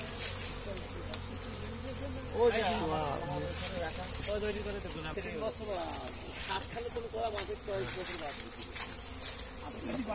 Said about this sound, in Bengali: আপনারা দেখতে পাচ্ছেন একটা মৌমাছির চাক